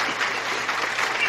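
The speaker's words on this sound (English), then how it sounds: "We're just gonna clap real quick." Quick clapping from a small group at the opening of a live podcast, a brief, close, continuous patter of hands lasting just over a second.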